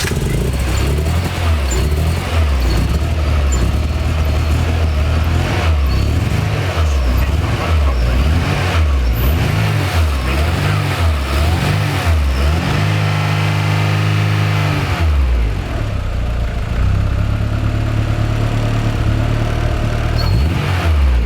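A Honda Civic EF with a turbocharged B18C4 engine cranks over and runs on a test start, loud and close, with uneven revving and shifting idle tones that drop and rise again.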